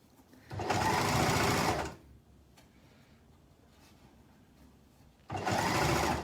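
A sewing machine stitches a summer skirt seam in two loud, steady bursts of rapid whirring, separated by a quiet pause with faint handling sounds.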